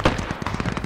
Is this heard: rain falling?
no